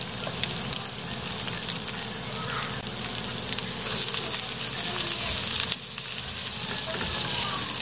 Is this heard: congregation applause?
no